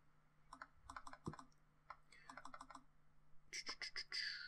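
Bursts of keystrokes on a computer keyboard as a command is typed into Command Prompt, irregular clicking close by with a short quiet gap, then a denser, brighter run of keys near the end; no talking.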